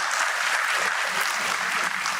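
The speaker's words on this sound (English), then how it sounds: "So you can give a very big round of applause for yourself." Loud, dense applause from a large audience of freshers at a medicine and health sciences induction ceremony, continuous clapping close and bright throughout.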